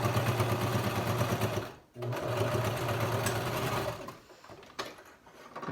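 A domestic sewing machine stitches a fold on a fitted fabric face mask, running in a loud, close, steady whir, stopping briefly near the two-second mark, then resuming before sputtering into short stop-start bursts.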